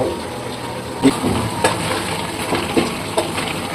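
Chili powder and turmeric being fried in oil for beef bhuna, a steady low sizzle with a few soft stirring knocks, close and continuous, with no speech.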